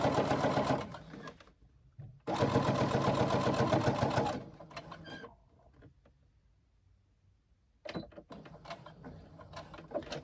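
Domestic sewing machine top stitching the overlay on a carry-all tote bag, two loud rapid runs of stitching separated by a short pause, then quieter handling and a final shorter burst of stitching.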